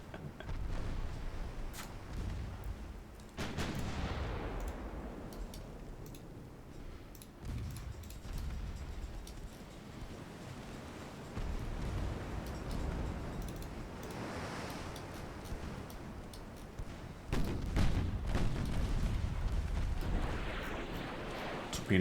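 Secondary guns on a warship fire in a naval strategy game, heavy booming blasts rolling out at intervals through a rumbling battle background, with a strong burst near the end.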